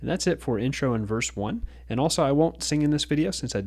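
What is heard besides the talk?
None of the usual background noises is heard.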